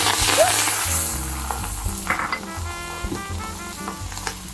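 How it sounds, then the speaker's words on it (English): Chopped parsley, garlic and Szechuan peppers sizzle in hot oil in a pan, a close, busy crackle with scattered pops and light utensil clinks, fading slightly after the first burst. "Then you turn the heat off and add chopped parsley, garlic, and Szechuan peppers."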